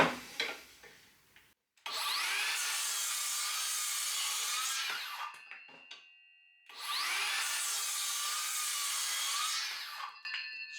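A Makita 36V cordless circular saw makes two square cuts through timber, each a loud, close whine of about three to four seconds, separated by a short pause, with faint handling knocks before and after.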